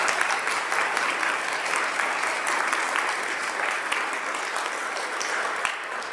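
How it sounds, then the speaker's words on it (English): Audience applause after 8th grade speeches, a dense sustained clapping from a roomful of people, loud and even throughout. "Can we give them another round of applause?"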